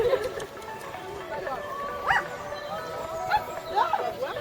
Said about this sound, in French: c'est un chien hyper sympa, qui a beaucoup de caractère